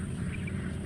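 A crow calls near an airport, a brief, faint caw set against a steady low rumble of background noise.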